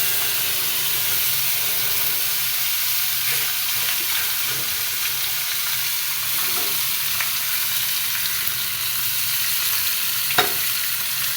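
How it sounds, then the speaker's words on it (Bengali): Marinated fish frying in hot oil in a home kitchen, a steady close sizzle and hiss with occasional stirring scrapes and light clinks, continuous with no talking. "ফার্স্ট টাইম মেরিনেট করে রেখে দিছি মাছ, এখন ভেজে নিব।"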